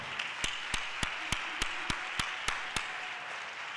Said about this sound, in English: y'all give a great round of applause for the shepherd of this church, Reverend Harvey